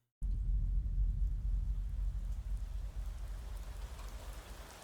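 Rain from a Persona 6 teaser trailer starts abruptly and continues as a steady, dense downpour with a low rumble beneath it, and no voices.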